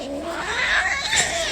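A cat yowls in a drawn-out, wavering caterwaul, loud and close, lasting about a second and a half with no speech over it.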